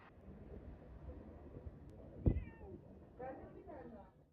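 Street cats meowing in central Antakya, Hatay, several short harmonic calls near the end over a noisy outdoor background with a sharp thump midway.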